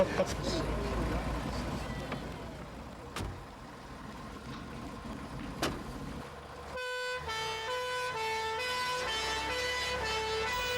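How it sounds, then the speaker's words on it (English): A fire engine's engine rumbles as it pulls away in Truro, Cornwall, then a loud tonal horn sounds steadily over the noise, with voices in the background. "the fire engine leaves Truro to take the ball to Pencollenic School"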